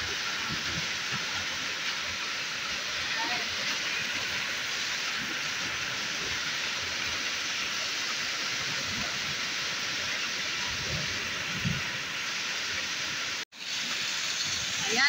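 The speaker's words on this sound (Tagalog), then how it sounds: "Grabe ang ulan." Heavy rain pours steadily through a hailstorm with thunder and lightning, a dense, continuous hiss of downpour on surfaces heard from indoors, with a brief dropout near the end.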